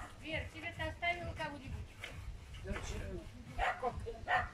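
A dog barks and yips several times in short bursts, mixed in with people talking nearby outdoors.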